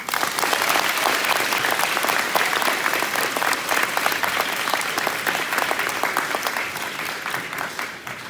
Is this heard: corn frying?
no